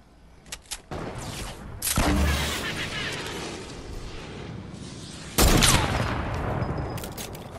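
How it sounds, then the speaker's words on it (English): Rapid gunfire from a video game battle, aimed at blasting a wall down, comes in loud sustained volleys with sharp cracking bursts, sounding close and dense, with little talk over it. "Keep shooting that wall down."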